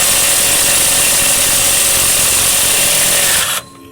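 A Mailtank cordless impact wrench runs in one loud, continuous buzzing whir close by, then cuts off abruptly near the end.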